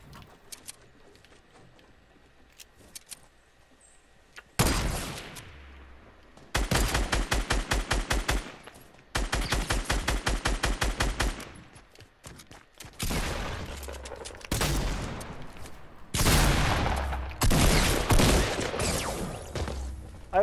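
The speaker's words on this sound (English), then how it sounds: "I hit him with my sniper and then a shotgun" Fortnite sniper and shotgun gunfire: long rapid bursts of loud, tightly repeated shots in several runs, with shorter blasts between them and nearly quiet stretches at the start.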